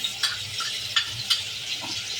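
Ginger paste goes into chicken frying for dry suka chicken, with a spoon scraping and stirring in sharp intermittent strokes over a steady sizzle.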